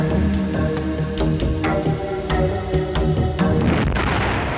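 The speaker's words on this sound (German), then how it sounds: "Am 28. Mai 1935 fällt der erste Schuss." Artillery guns fire at a military test range, a rapid series of loud, sharp booms with rolling low rumble between them, close and dense across the stretch.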